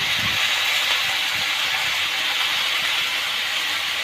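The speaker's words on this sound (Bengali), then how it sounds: "সব প্রকার সবজি একসাথে ঢেলে দেওয়া হবে, যেহেতু এটা পাঁচমিশালি সবজি রান্না হবে।" Mixed vegetables for a five-vegetable dish tipped together into a pan, giving a steady, loud steamy hiss and sizzle that holds evenly throughout with faint low thumps underneath, no voices present.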